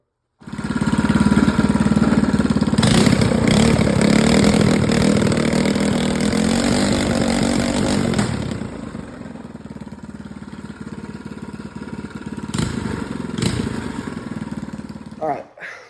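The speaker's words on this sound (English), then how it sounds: "we're going to start the video off with some wicked engine noises" A Predator 212 engine on a minibike revs loudly and close, then settles into a rough, lumpy idle with occasional blips of throttle.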